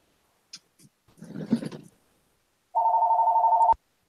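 Inside a room during a Google Hangout call, a few faint scrapes and a low rumble come first, then a telephone gives one steady electronic ring about a second long that cuts off abruptly, alone without talk.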